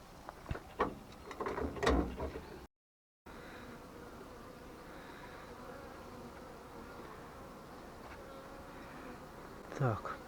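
Buzzing of a honeybee swarm being shifted from a swarm trap into a hive at an apiary, a steady insect drone with brief knocks and handling clatter near the start and end.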